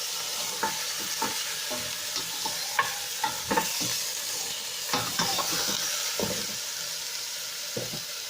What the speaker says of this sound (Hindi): उसके बाद इसको हमने हल्का सा भूनना है।